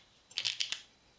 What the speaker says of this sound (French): Ça, je le gomme.